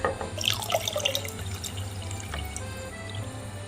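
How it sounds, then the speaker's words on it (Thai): Dissolved yeast is poured into a jar of java plum wine, giving a close, trickling and splashing liquid pour over a low background hum. "ยีสต์เริ่มละลายแล้วนะคะ เดี๋ยวจะไปเทใส่ โหลเลยนะคะ"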